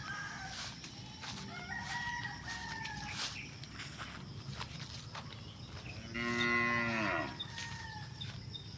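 A cow on a rural Philippine farm gives a loud drawn-out moo near the end, while roosters crow and chickens cluck intermittently around it outdoors.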